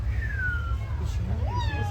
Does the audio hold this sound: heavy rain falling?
no